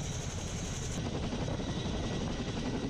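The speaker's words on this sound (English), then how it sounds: "a group of U.S. Army paratroopers and international paratroopers board a Chinook helicopter" A Chinook helicopter at a military static-line parachute event, its heavy rotor thump and engine roar steady and continuous, fairly close, with no voices.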